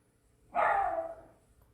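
A single muffled dog bark, fairly faint and distant, trailing off quickly in an otherwise quiet room.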